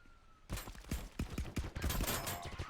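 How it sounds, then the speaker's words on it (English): Rapid gunfire and grenade blasts from a competitive match of the VR shooter game ContractorsVR, dense bursts of overlapping shots in quick succession after a quiet start, loud and sustained. "the match has already begun as nades are coming out along with gunshots"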